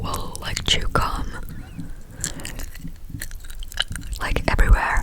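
Gum chewing mixed with soft whispering, close to the ear: wet, clicky chews and smacks come in scattered bursts through a steady hushed whispered voice.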